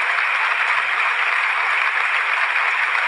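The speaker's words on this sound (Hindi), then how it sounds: "तालियां बजती हैं" Audience applause at a 1940 political speech, a steady hissing wash of clapping throughout, loud and continuous with no voices over it.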